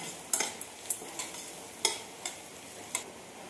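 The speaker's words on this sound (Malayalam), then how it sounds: "നന്നായി ഒന്ന് ഇളക്കി കൊടുക്കാം. സിമ്മിലാണ് ഗ്യാസ് വെച്ചിരിക്കുന്നത്, അല്ലെങ്കിൽ കടുകെല്ലാം കരിഞ്ഞു പോകും." Mustard seeds and chopped green chilli frying in a pan on a low gas flame, stirred with a spoon that clinks against the pan several times over a soft continuous sizzle, no voices.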